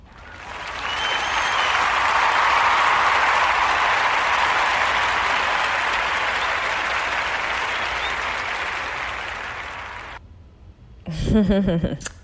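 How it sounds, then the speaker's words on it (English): A room full of people breaks into a long, loud round of applause, a dense wash of clapping that swells and holds for about ten seconds before cutting off, followed by a brief moment of a voice speaking. "let's give ourselves a round of applause for just being here and showing up and being great"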